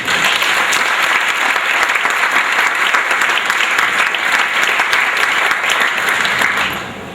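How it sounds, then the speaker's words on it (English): Sustained applause from a seated crowd at a school sports banquet dinner: dense, steady clapping that fills the room for several seconds, then thins slightly at the end. "Please join me in a round of applause for all of them."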